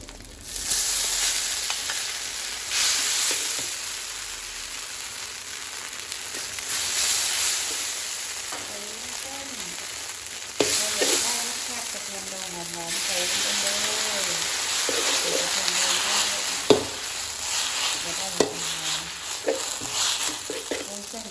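Glass noodles fry with duck egg in a hot pan, giving a steady, close sizzle with occasional stirring scrapes, while someone talks over the cooking.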